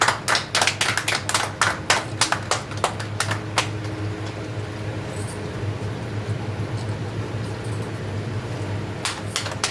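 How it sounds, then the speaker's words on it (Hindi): Applause at a coaching-centre celebration for class 12 toppers, with a burst of sharp claps in the opening seconds that fades into room murmur, then a few more claps near the end. "ताली बजा दो भाई"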